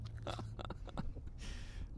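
Crunchy chewing close to the mic, several crisp bites and grinding chews in quick succession with a brief pause between, then a louder crackling burst near the end.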